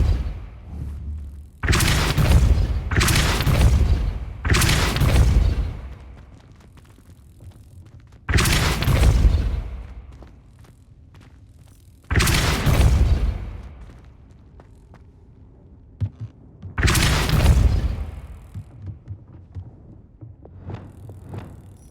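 Depulso spell blasts in the video game Hogwarts Legacy boom out one after another, six loud, heavy impacts with rumbling tails, separated by quieter gaps.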